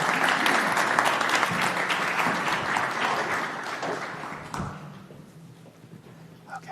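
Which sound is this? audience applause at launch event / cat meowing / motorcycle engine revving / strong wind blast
audience applause at launch event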